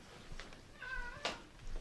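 A cat gives a soft, faint meow and then a brief higher chirp against quiet room noise.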